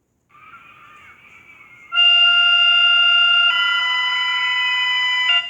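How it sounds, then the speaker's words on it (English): Emergency alert siren system sounding a loud, steady electronic tone that starts as a softer warbling note, then jumps to a harsh, multi-toned blare that holds before cutting off. "they used it as part of their siren system"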